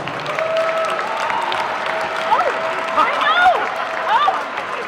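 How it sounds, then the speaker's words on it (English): Steady crowd applause fills a high school basketball gym, a dense wash of clapping with scattered whoops and whistles rising over it toward the end. "Give a round of applause"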